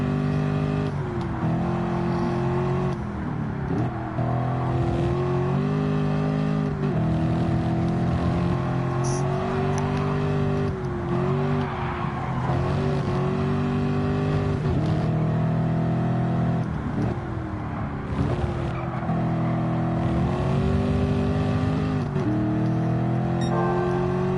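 Chevrolet Camaro SS in Gran Turismo 7, its V8 engine loudly revving and accelerating through repeated gear changes, rising and dropping in pitch for the full length.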